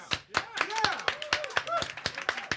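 A rally crowd claps in a quick, steady rhythm at close range, with voices calling and cheering over the beat throughout.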